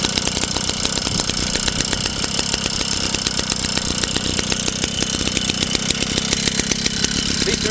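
A JAP Model 80 engine running on its first start after assembly, a steady rapid putter with sharp exhaust pops, loud and close throughout.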